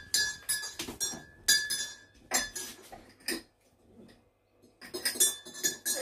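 A metal spoon clinks against the sides of a cup while stirring sugar into tea, producing bright, close, repeated chiming taps in short bursts with brief pauses.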